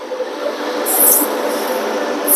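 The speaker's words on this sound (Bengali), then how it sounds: "আর দেখো পাশ দিয়ে একটা মালগাড়ি বয়ে যাচ্ছে।" A goods train rolls past alongside a stopped passenger train at Kishanganj station, a steady close rumble with brief high metallic squeals from the wheels.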